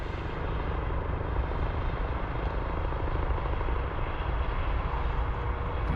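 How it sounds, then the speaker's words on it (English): A North West Air Ambulance helicopter lands at an aerodrome, its rotor and engine roar steady, loud and close throughout with no break. "we've got an helicopter here. It's a North West Air ambulance again."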